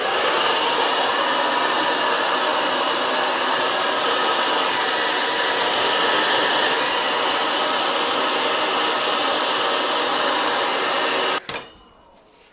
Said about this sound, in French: je vais passer un premier coup de sèche-cheveux maintenant